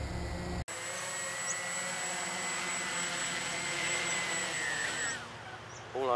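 A Walkera GPS drone comes in to land, its rotors giving a continuous high, whining buzz close by that holds steady and then drops away near the end.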